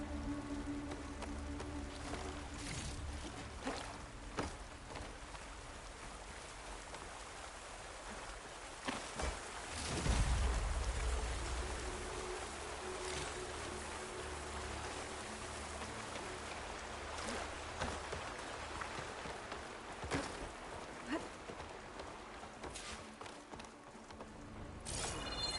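Steady rain hiss in the video game Horizon Forbidden West, a dense continuous wash of falling water with occasional soft thuds, filling the scene alone without talk for about twenty-five seconds.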